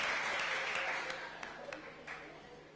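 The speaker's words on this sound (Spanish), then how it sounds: "invitamos con un fuerte aplauso a Sara Manuela Guisao Vázquez" Audience applause welcoming speakers onto the stage at a poetry conversation event, a steady wash of clapping from a room of people that gradually thins and fades out.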